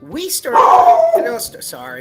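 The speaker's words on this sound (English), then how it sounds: "Sorry about the dog." A dog barks a few times close by while a person keeps talking over it.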